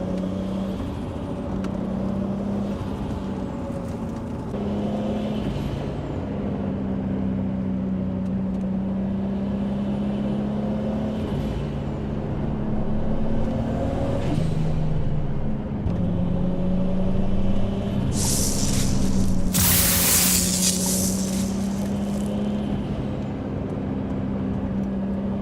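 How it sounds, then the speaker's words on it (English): Turbocharged race car engine in a racing video game, a steady droning engine note with rising and falling pitch sweeps, whooshing turbo hiss and a couple of sharp bursts of blow-off near the end, no talking. "now you guys can hear the turbo noises clear"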